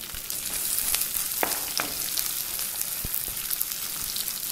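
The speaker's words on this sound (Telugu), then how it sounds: "ఇందులో మనం కట్ చేసి పెట్టుకున్న ఉల్లిపాయ ముక్కలు వేసుకుందాం" Chopped onion pieces frying in a pan of hot oil while making sorrel leaves gravy, a steady close sizzle with occasional sharp pops and crackles, no talking.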